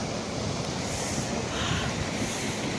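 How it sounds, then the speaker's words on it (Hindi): Waterfall near Manali pouring steadily in heavy rain, a continuous loud broadband roar of rushing water with no breaks, close by and alone without any talk. "और ये झरना वही झरना"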